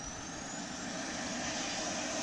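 A jet engine spooling up after an APU start in the Falcon BMS flight simulator, a steady rising whine and roar held at an even, moderate level.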